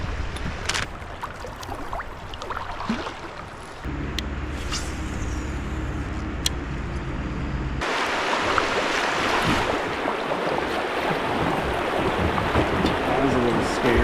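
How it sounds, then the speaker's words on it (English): Rushing river rapids on the Black River in Wisconsin, heard from a kayak, a broad steady churn of water that swells louder and brighter in the second half, with low rumbling underneath. "We actually have rapids."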